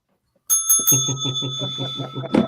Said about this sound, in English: Ding the bell. Ding the bell.